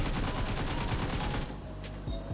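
Rapid bursts of automatic gunfire crackle through a battle royale video game fight, dense and close at first, then thinning into scattered shots with no speech over them.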